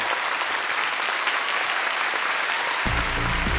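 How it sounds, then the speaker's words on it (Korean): A studio audience at a KBS Korean television show breaks into sustained, dense applause that fills the room, with a short musical sting entering near the end. "여러분 큰 박수 부탁드리겠습니다."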